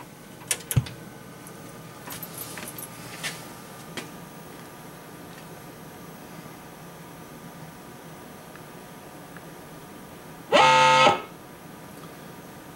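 An Atronic Cashline slot machine powers up after a RAM reset and gives one loud electronic tone lasting about a second near the end, preceded by faint clicks over a quiet hum.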